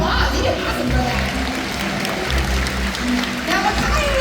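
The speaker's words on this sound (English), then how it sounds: "Let's give him a big round of applause" An audience at the SeaWorld Orlando orca show claps in a steady, dense wash of applause that fills the stands, with an amplified announcer's voice carrying over it.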